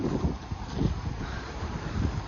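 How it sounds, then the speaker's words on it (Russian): Gusty wind buffets the microphone in uneven bursts, a loud rough rush with no voices. "Погода у нас не очень, ветрено."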